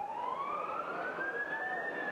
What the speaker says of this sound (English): The wail of sirens on a Tel Aviv street said it all.